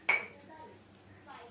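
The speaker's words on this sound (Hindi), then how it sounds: "इसे अच्छे से मिक्स करेंगे।" A utensil knocks sharply against a bowl while dhokla batter is stirred, one crisp clink followed by soft scraping and a second lighter tap, close by and otherwise quiet.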